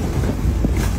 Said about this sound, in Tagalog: Sobrang lakas yung hangin.